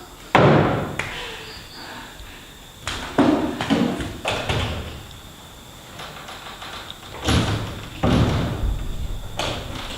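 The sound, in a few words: door sounds during a monologue performance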